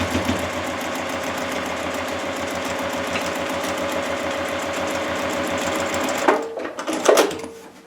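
A sewing machine runs a fast, steady stitch along the outer border of a paper-pieced star quilt, loud and close, then stops near the end with a few brief handling clatters.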